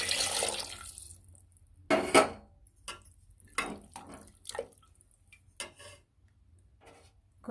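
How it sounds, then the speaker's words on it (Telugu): Splashes of water go into boiling drumstick leaf and tamarind stew, with scattered drips, a few sharp clinks of a utensil against the pan and quiet gaps in between. "ఉడుకుతుంది కదా, కొద్దిగా వాటర్ వేసుకుంటాం"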